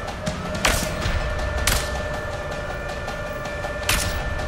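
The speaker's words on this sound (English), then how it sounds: "He starts shooting at you." Gunfire in the video game A Way Out, with a few sharp shots spaced out over a steady background of game noise.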